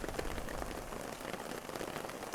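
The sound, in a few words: rain falling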